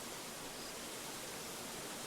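A waterfall in a video game forest valley gives a steady, even rush of falling water with no breaks, faint and constant throughout.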